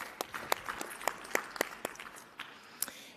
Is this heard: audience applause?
yes